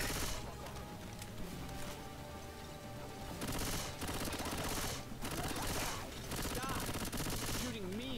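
In the video game Death Mountain on a custom map, dense gunfire and rapid bursts play continuously over game sounds and music-like tones, with a few loud volleys standing out. The mix is busy and steady.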